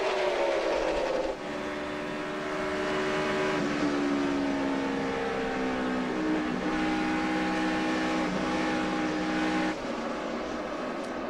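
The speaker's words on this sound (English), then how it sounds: "And you heard that engine up off the corner there." NASCAR stock cars racing in the 2011 Samsung Mobile 500 roar past together, their engines droning and shifting pitch as they pass, loud and sustained without talk.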